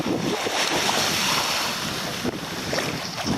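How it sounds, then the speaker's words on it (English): Ocean waves wash continuously onto a beach, a loud broad surf roar mixed with heavy wind buffeting the microphone, with no voices. "Maybe you'd like for me just to shut up so you can listen to the ocean."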